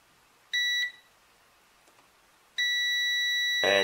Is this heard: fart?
no